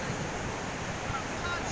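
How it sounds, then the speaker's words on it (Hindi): Sea waves breaking on a beach make a faint, steady wash of surf, soft and continuous with no distinct crashes and no talking. "समुद्र सुंदर आवाज"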